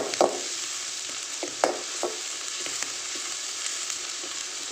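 Onion with a few curry leaves sautés in a pan for a coconut-milk chicken varattu, a moderate steady sizzle punctuated by sharp spoon taps and stirring knocks against the pan, no speech.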